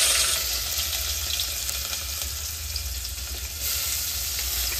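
Chopped onions fry in hot oil with a dense, continuous close-up sizzle that swells slightly near the end, without any talking.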